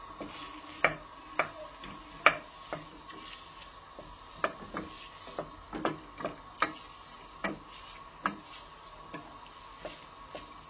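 Chopped onion added to oil in a pan. It sizzles quietly and steadily, broken by sharp, regular scrapes and taps from a utensil stirring it, and there is no speech.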